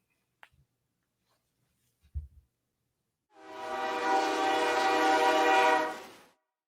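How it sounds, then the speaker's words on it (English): Train sound effect played back on a live stream: a few soft clicks and taps, then a loud sustained horn blast lasting about three seconds that swells and fades out, alone with no talking. "let's play the train, man. Play the train."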